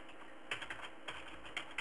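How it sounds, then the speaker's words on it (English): Computer keyboard typing during web design work: a few quick bursts of soft key clicks against a faint background hum, fairly quiet and close. "I can't see what I'm typing"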